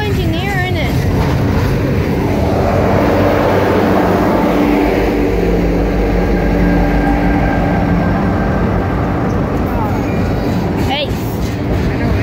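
Runaway freight train cars roll along the track with no locomotive or engineer, a loud, steady rumble of wheels on rail that holds throughout, with voices talking over it.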